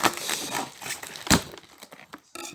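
Crinkly crackling and tearing of sticky tape, with a sharp rip partway through and quieter rustling around it, close by and with no talking.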